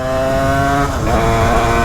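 Motorcycle engine idling roughly and jerking, a loud close steady drone with a brief dip and stumble in the middle before settling back, no speech.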